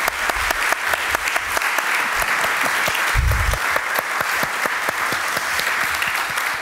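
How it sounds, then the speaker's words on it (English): Warm audience applause for a guest artist at the close of an exhibition talk, a dense, steady wash of many hands clapping close by with a few sharper claps standing out, sustained throughout. "give a very warm applause again for Tony"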